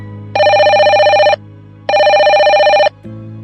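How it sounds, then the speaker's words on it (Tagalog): A telephone bell rings in two long, even bursts with a pause between, loud and close, with a low steady hum underneath and no voices. "Tumunog ulit ang telepono."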